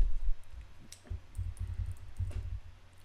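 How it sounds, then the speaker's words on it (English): Arrow keys on a computer keyboard are tapped while nudging anchor points in Adobe Illustrator, a series of close, soft clicks in an uneven rhythm over quiet room tone. "using the arrow keys, I'm just going to tap in"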